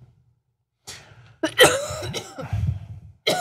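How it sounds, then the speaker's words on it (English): A few harsh coughs in quick succession, close and loud, after a short stretch of near silence, followed by another cough at the end. "a cough on the show, I would never"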